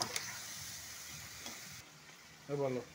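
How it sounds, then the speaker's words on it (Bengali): Spice masala with turmeric frying and being stirred in a pan for a fish roe curry: a faint, steady sizzle with scraping stir strokes and a brief clatter near the end. "এবার আমি এটাকে একটুখানি কষিয়ে নেব।"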